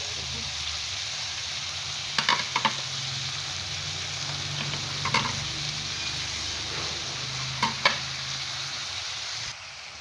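Spiced potato and cluster bean curry sizzles steadily in a pan while a spoon stirs it, with a few sharp scrapes and clinks against the pan over the constant close frying hiss and no speech.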